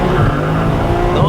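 BMW M5 spinning its tyres in second gear to warm them, with a loud, steady roar of engine and wheelspin throughout and some talk underneath.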